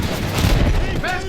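A vehicle-mounted gun fires in the Battlefield 1 video game with loud, heavy blasts and booming rumble, while a voice shouts over the gunfire.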